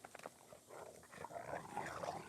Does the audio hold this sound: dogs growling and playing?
yes